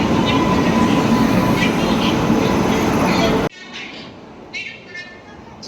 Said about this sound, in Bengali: আমাদের ট্রেন সঠিক টাইমেই মাদুরাই থেকে ছেড়ে দিল